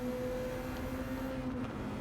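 An Alfa Romeo 4C race car engine in Gran Turismo 7 on the Tokyo Expressway drones loudly and steadily throughout, a continuous close engine note without noticeable pauses and with no talking.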